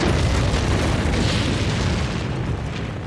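A volcanic eruption explosion as a sound effect, a mountain bursting out of the ocean with fire: a continuous, loud, deep roaring blast with no pauses.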